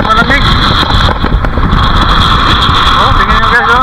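Strong cold wind gusting across an open microphone at the Sulfatara site in Cabintan, Ormoc, Leyte, a loud continuous roaring buffet with people talking beneath it.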